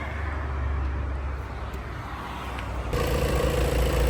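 A 2017 VW Tiguan 2.0 engine idles with a smooth, steady, moderately quiet hum that rises slightly in level partway through, with no talking over it.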